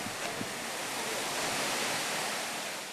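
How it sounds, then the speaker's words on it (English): A waterfall on a steep, rocky school path in Bolivia rushes steadily, a broad, even roar of falling water with no talking. "At this waterfall, the girls know they've made it halfway."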